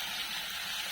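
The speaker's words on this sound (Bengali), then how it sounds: "এখন আমি জল দিয়ে দিব" Water poured into a pot of mutton curry, a steady close splashing hiss lasting about a second.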